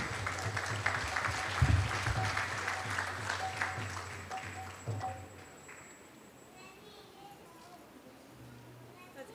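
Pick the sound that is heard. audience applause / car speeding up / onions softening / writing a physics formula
audience applause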